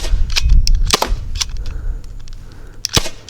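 A Byrna launcher firing non-lethal projectile rounds outdoors, several sharp close pops in quick irregular succession over wind and rustle, with a final loud shot near the end.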